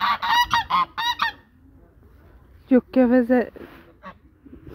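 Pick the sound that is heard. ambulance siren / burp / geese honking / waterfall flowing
geese honking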